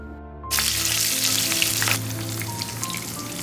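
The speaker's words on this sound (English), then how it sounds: "Then add sliced green chilies, 4 or 5 in numbers, and stir it a little." Sliced green chilies and asafoetida hitting hot oil, an abrupt loud burst of sizzling that stays dense and steady, easing slightly as stirring continues under faint music.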